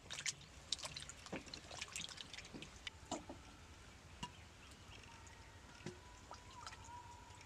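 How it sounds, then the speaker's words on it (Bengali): Peeled raw potatoes being washed by hand in water, giving irregular splashes, drips and trickles at close range with small clinks and knocks against a container, steady and moderately quiet with no talk. "এবার আলুটা আমি ধুয়ে নিব। আলুগুলো একটু ভালো করে ধুতে হবে।"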